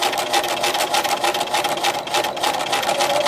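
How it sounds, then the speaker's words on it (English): A sewing machine runs in a fast, steady mechanical whir as it stitches straight across the edge of joined front and back fabric pieces, close and loud with no voices. "Okay, then I'm going to stitch across this edge."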